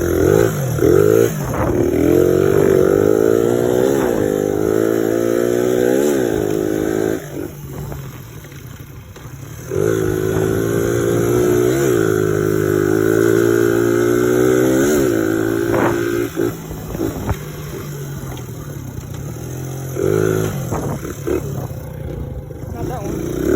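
A Suzuki DR100 motorcycle being ridden, its engine droning and revving with rising and falling harmonic pitch, held against the rev limiter in loud sustained bursts separated by brief easing-off dips.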